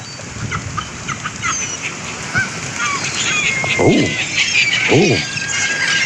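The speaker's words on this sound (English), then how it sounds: "Birds are flapping all over the place." Excited birds, apparently chickens, clucking and squawking at close range with sharp rising calls and scattered chatter against a busy background of noise, while other birds call faintly in the distance.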